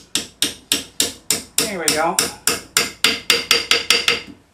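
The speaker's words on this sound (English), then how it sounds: "we'll tap it in with a hammer" Hammer taps seating a freshly machined collet bushing into a mill head, about sixteen sharp, evenly spaced metallic knocks close up, with a brief spoken remark between strikes.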